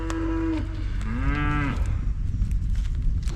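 A black cow moos on a farm, two drawn-out harmonic calls one after the other over a steady low rumble of background noise, close and fairly loud, with no one talking.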